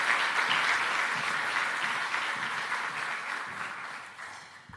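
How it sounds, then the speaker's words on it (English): Warm audience applause welcomes a speaker at a community hub kick-off event in Portugal: a dense, steady wash of many hands clapping that slowly fades toward the end, with no talk over it. "Please welcome, and with a warm applause, Carolina Sampaio Diniz."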